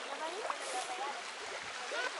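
Water in the Tanti stream flows in a soft, continuous rush with faint splashing, heard fairly quietly and steadily throughout.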